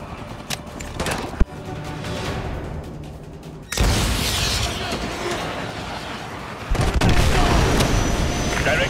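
A missile slams into an enemy helicopter in Call of Duty Modern Warfare 2 Remastered, with a sharp crack followed by a loud, sustained roar and a second heavy surge of blast noise near the end.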